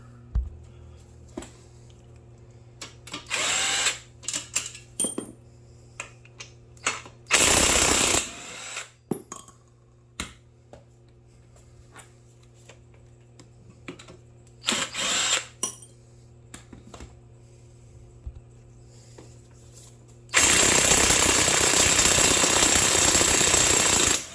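A power tool removes tight torque converter bolts on a 2017 Nissan Rogue 2.5L engine: short rattling impact bursts recur between quiet pauses over a low steady hum, ending in a long, loud sustained hammering run, with no speech.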